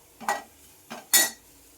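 Spring onion greens being stirred in a pan for a sukat dish, three short scraping swishes of a spoon against the metal, close and clear with quiet gaps between.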